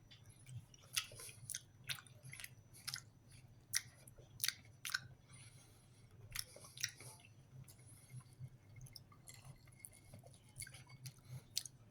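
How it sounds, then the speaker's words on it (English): Close, quiet chewing of a sausage from a French military ration, with repeated moist bites and squishy mastication in an irregular rhythm, no talking over it. "It's got the chew just about like a hot dog does."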